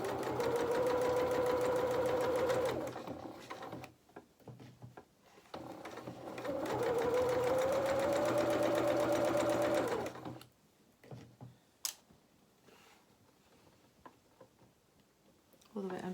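A domestic sewing machine stitches piping onto a small dressing gown in two steady whirring runs, separated by pauses with faint handling noises and quiet movement.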